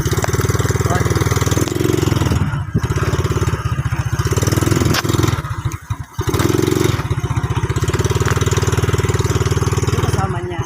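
A motorcycle engine idles close by with a loud, steady putter that dips briefly midway, while people talk over it outdoors.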